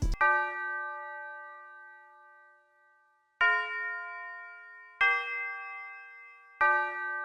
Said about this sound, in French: Donc ensuite, j'ai ajouté les cloches.